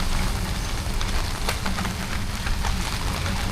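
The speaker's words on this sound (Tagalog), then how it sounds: "Grabing ulan." Heavy rain pouring down outdoors, a loud, dense and constant hiss of drops striking surfaces, with no voices over it.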